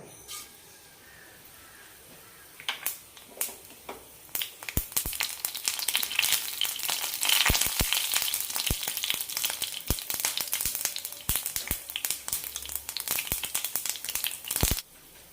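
Mustard seeds and curry masala frying in a tablespoon of oil in a pan, a loud crackling sizzle that builds after a few seconds and continues with sharp popping bursts.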